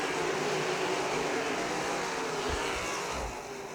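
Pack of sprint cars at a dirt-track Great Lakes Super Sprints race at Millstream Speedway, roaring down the back straightaway in a dense, sustained engine drone that fades slightly as the cluster moves away.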